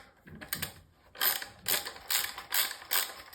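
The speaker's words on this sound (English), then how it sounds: "I'm putting back the screws" Screws being driven back into the neck plate of a Fender HM Stratocaster, heard as a few short ratcheting, clicking bursts in a steady rhythm, close up with no talking.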